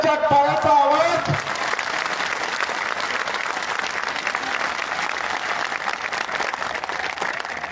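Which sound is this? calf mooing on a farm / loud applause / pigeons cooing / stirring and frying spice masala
loud applause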